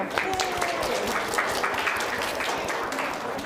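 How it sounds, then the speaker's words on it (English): Audience applause at a school Battle of the Books competition, steady close clapping from a hall crowd lasting the whole stretch, with some voices and a brief tone mixed in. "Let's give them some applause too."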